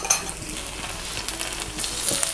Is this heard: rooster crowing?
no